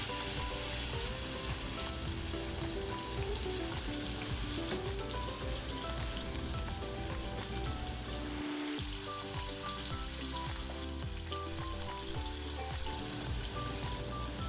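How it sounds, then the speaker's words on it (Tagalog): Seasoned beef chunks sear in shimmering olive oil in a pan, a continuous sizzling crackle running throughout with a brief dip partway through, no voices over it. "Season the beef with salt and sear in olive oil to caramelize."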